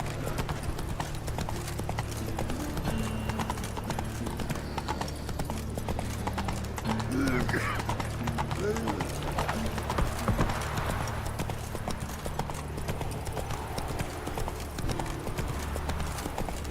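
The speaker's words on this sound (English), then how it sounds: "Whoa there, Roach" Horse hooves clip-clop steadily through The Witcher 3: Wild Hunt, a continuous rhythmic trot over a low ambient bed, with a brief whinny partway through and no talk over it.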